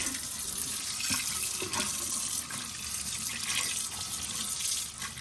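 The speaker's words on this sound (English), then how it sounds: "I'm going to wash my hands." Running tap water pouring steadily into a sink while hands are washed before baking sugar cookies in an RV kitchen, a loud continuous splashing hiss with slight changes as the hands move through the stream.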